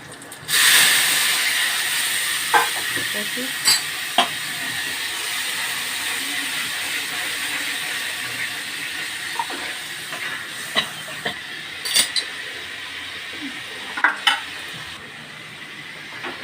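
Whole spice tempering with turmeric, salt, chili, cumin and coriander powders sizzling in a pan, a steady hiss under occasional scraping stirs and clinks, close and continuous with no talk.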